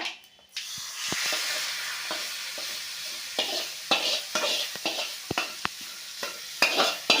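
Mustard seeds and cumin sizzle in hot oil during home tempering, giving a steady loud frying hiss broken by sharp pops and stirring clatter near the pan.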